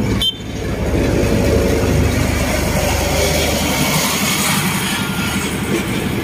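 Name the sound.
train arriving at Mahachai station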